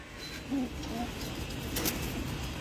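Male Giribaz pigeons in their loft give a few soft, low coos over a faint steady background hiss, with a brief brighter noise near the end.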